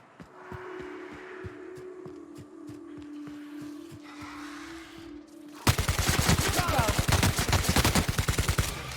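Rapid automatic gunfire from The Outer Worlds video game bursts in loudly partway through, a dense rattling volley after a quieter stretch of sporadic shots over a low game drone.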